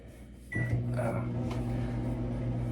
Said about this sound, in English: Okay, can you just put it in the microwave?